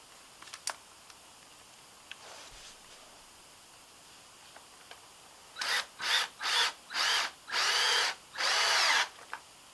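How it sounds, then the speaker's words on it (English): A power drill whirs in six short bursts driving a screw, the last one longest, after several quiet seconds with faint taps. "drill it in."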